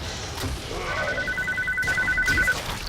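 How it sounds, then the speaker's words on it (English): A phone rings during a Warframe gaming session, heard as a thin, rapidly pulsing electronic trill lasting about a second and a half, faint and somewhat distant beneath steady room noise. "Sounds like a phone."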